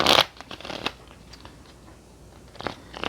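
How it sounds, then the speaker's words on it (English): Tarot cards are shuffled by hand, with a loud riffling burst at the start, softer scattered card rustles and taps in the middle, and another riffle near the end. "So let me just shuffle one more time."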